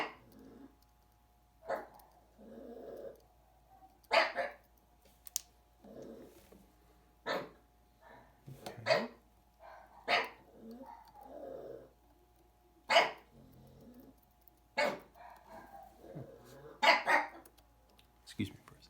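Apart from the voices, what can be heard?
dogs barking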